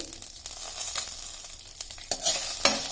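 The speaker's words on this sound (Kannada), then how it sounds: "ಫ್ರೈ ಆಗ್ತಾ ಇದೆ. ಮೆಣಸು, ರೆಡ್ ಚಿಲ್ಲಿ, ಹಾಗೆ ಗ್ರೀನ್ ಚಿಲ್ಲಿ" Red and green chillies fry in a pan for pineapple pachadi, a close, crackling sizzle punctuated by brisk stirring scrapes and taps.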